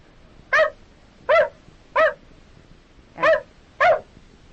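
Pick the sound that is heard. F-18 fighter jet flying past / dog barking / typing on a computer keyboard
dog barking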